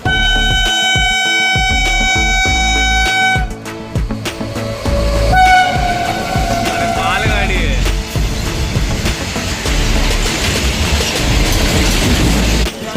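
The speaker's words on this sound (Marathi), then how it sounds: "हे बघा ट्रेन येते. खूप फास्टमध्ये येते." A Konkan Railway train rushes past at speed with a loud horn blast at the start, then a sustained roar of wheels and carriages close by filling the rest.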